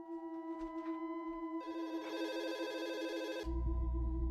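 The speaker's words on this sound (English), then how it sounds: "Just as we start dinner, my phone rings." A phone rings with a sustained electronic bell-like trill that swells partway through, then cuts into a low hum; faint and fairly distant, with no talking.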